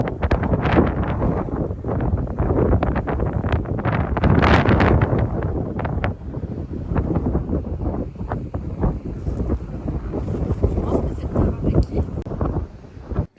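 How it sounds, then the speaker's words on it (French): Strong wind on the Taranaki coast of New Zealand buffets the microphone in loud continuous roaring gusts, with faint rumbling underneath and no clear talk. "Il y a beaucoup de vent."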